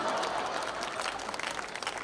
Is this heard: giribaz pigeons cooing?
no